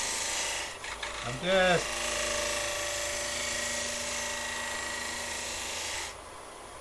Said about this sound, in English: So I'll just roll my gouge over as I come round.